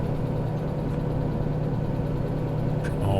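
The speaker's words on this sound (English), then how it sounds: "How do we stop the engine from overheating going up a hill?" Train engine straining up a hill in the Derail Valley railway simulator game, a steady loud low rumbling drone with constant vibration, no voices.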